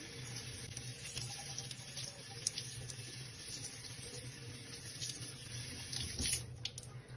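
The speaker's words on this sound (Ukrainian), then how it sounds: "Ці камінці треба промити під проточною водичкою." Stones (quartz, flint and zeolite) rinsed under a steadily running tap, with a constant hiss of flowing water and small clicks and splashes as the stones shift, close and fairly quiet with no talking.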